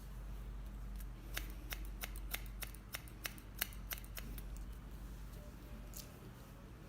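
Scissors snip through hair during a short bob haircut, a quick run of about a dozen crisp, close cuts in an irregular rhythm over a low steady background hum, with no talking.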